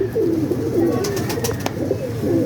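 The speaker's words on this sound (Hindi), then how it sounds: "ये वो कबूतर है जो मैं आपको कह रहा था" Soft, repeated low cooing from a fancy pigeon kept by a Pakistani or Indian pigeon hobbyist, close by and steady, with a few brief sharp clicks or flutters over the murmuring coos.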